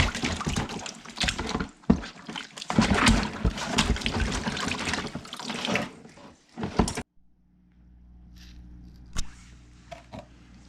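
A sluice mat from a mini high banker placer gold rig is rolled up and rinsed in a bucket, giving close, loud sloshing and splashing that stops abruptly, followed by quieter drips and a faint trickle.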